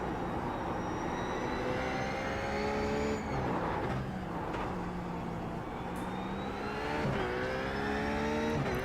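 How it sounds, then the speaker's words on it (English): Race cars circling the Road Atlanta circuit, engines droning steadily with rising and falling pitch as they shift gears and pass, a continuous loud roar without speech. "it's nice to hear the sound of these cars and everything"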